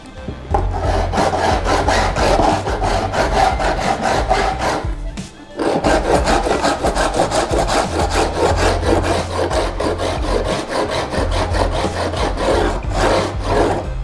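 Steady rasping strokes of a file working along guitar frets and the fretboard edge during a refret of a Yamaha Dynamic No.15, loud, close and continuous in a regular back-and-forth rhythm, with a brief pause midway.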